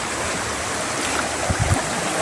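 Floodwater pours across a road through a flooded paddy field area, a steady broadband rush of flowing water with a few louder low splashes near the end, close and continuous, no talking.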